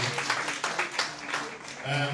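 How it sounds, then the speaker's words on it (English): An audience applauds at a political gathering in Sierra Leone, a dense, steady patter of many hands clapping close by with a voice speaking over it toward the end. "So now we get a round of applause in the team for Randy."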